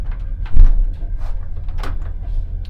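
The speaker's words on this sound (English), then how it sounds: "And this is where you lock the door." A door in a Soviet train toilet is slid and locked, giving a low rumbling slide and a muffled clunk up close amid train background noise, with no talk.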